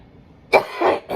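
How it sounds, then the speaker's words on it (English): A person still recovering from a lingering infection lets out a short burst of two or three close, hoarse coughs with a throat-clearing quality, alone and fairly loud. "I'm still coughing up the infection."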